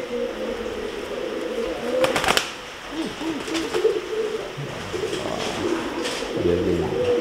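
A male pigeon coos in courtship to a female. Several deep, throaty, rolling coos come close by over a background hiss, with a few brief sharp noises mixed in.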